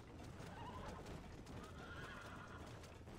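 Horse in the video game Red Dead Redemption, steady hoofbeats at a run with a whinny rising over them, all at moderate level.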